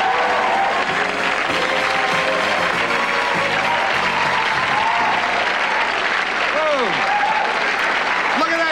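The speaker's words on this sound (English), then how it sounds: "I think it's amazing what applause signs will do." A studio audience for a 1986 CTV television show claps loudly and steadily, a dense wall of applause with a few voices talking and exclaiming over it.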